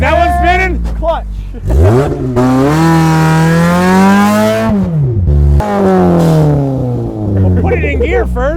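A cheap track-ready race car engine revs hard and loud up close, rising and falling through several sustained pulls with strong harmonic whine, briefly cutting out between surges.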